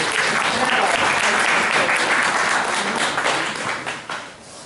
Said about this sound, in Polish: Brawa dla organizatorów.